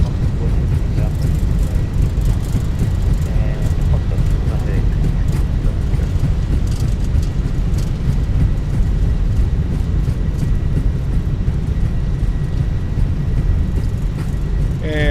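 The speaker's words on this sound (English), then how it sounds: "reversers are out, decelerating." Thrust reversers roar on an Airbus A320 landing roll in the Fenix A320 flight simulator, a loud, continuous low-frequency engine rumble that holds steady throughout, with a voice talking faintly underneath.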